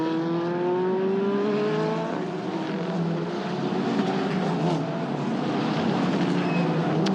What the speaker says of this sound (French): les voitures qui arrivent dans le complexe du lycée